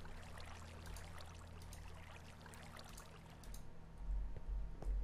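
Water placed in Minecraft runs as a continuous soft trickling stream over a low steady hum, growing a bit louder and rumblier near the end.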